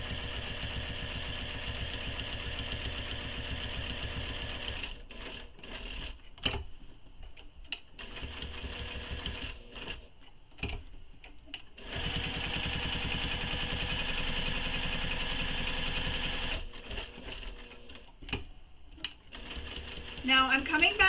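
A sewing machine stitches around the overlay on a nylon bag in two long continuous runs, split by a quieter gap with faint handling sounds, close and fairly soft.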